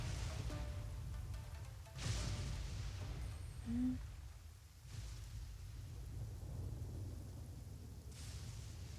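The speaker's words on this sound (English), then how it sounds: "Sailing on a stormy sea." A thunderstorm rolls over a stormy sea while sailing in the video game Genshin Impact, with steady rain and repeated thunder cracks and rumbles at about two-to-three-second intervals. A brief chime-like tone sounds partway through.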